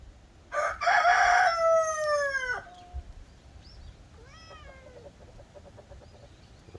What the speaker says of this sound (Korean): 아이고 닭도 울고